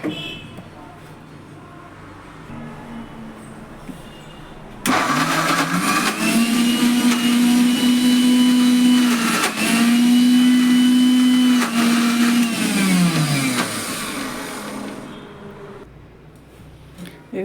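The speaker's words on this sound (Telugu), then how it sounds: "ఇప్పుడు మళ్ళీ మనం మిక్సీ చేసుకుందాం" An electric mixer grinder runs for about eleven seconds blending ginger and garlic into paste, a loud steady motor whine with a rising hum that winds down at the end, preceded and followed by quiet room tone.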